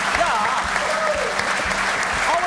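Studio audience applauding a new leader on a Dutch football talk show, steady dense clapping throughout with faint voices and tonal sounds underneath.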